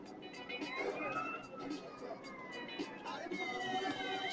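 A police car siren in the video game GTA San Andreas wails in rising and falling sweeps, quiet and somewhat distant, under someone talking.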